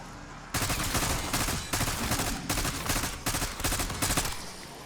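Gunfire rings out while zombies are killed in the Black Ops 6 Liberty Falls zombies mode, with sustained automatic bursts broken into about half a dozen closely spaced volleys, loud and near.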